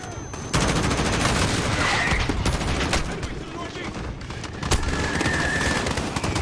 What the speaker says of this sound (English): these explosions are damaging me real bad